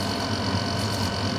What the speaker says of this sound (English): If your AC sounds like this